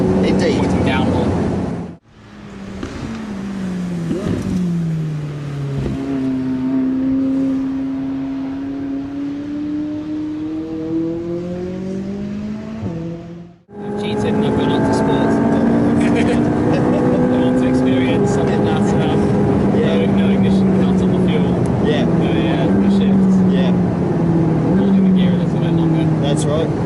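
A McLaren 675LT sports car driven hard on a racetrack, its engine revving high and climbing through the gears in rising sweeps with a couple of brief lifts off the throttle, loud and close, while voices talk over it.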